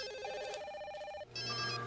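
A telephone rings in a Brazilian drama film, its electronic bell repeating in clear tonal bursts that briefly stop and then resume at a different pitch, loud and close with no talk over it.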